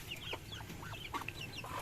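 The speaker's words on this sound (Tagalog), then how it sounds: "Meron din tayong mga namisang manok" Newly hatched chicks cluck and peep close by on a farm, a steady run of bright chirps with soft clucks over a constant low background hum.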